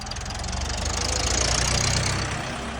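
A tractor engine runs with a heavy, knocking rumble, steady and close, holding a constant idle-like rhythm throughout, during pre-shipment testing.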